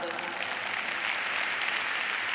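An indoor audience at a leadership training seminar claps steadily. The applause is fairly soft and continuous throughout.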